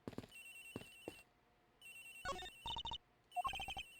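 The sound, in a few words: phone ringing in Ace Attorney Investigations video game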